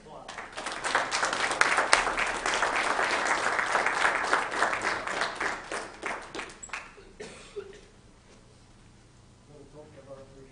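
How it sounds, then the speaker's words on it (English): An audience at a Weber County live event breaks into dense, sustained applause that fades after several seconds, with a few scattered claps and faint voices trailing off at the end. "Let's give them a round of applause."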